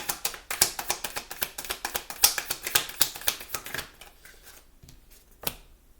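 Tarot cards are shuffled and drawn in quick, crisp riffling snaps that cluster densely at first, then thin into a few scattered flicks and one final sharp slap, close and clear without talk.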